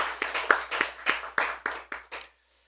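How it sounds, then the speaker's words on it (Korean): A church congregation claps in a short burst after a special hymn sung by a parish group, about ten distinct, fairly loud hand claps in a slightly uneven rhythm before the sound stops. "우리 다 함께 큰 박수로 격려해 주시면 감사하겠습니다."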